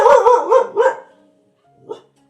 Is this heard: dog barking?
yes